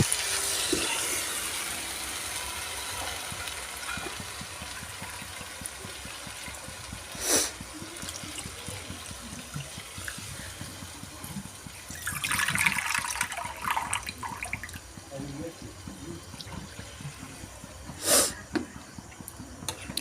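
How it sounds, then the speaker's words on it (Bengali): Water poured into a thin magur fish curry in a pot, a continuous hissing, trickling flow lasting throughout with a few brief louder splashes and faint background voices. "যেহেতু আমি পাতলা ঝোল বানাবো তাই একটু বেশি পরিমাণ জল দেবো"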